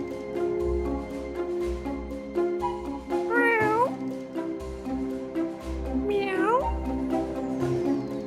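Cartoonish cat meows from the puzzle video game The Cat Machine, two rising-and-falling calls a few seconds apart over a steady musical game background with a soft beat.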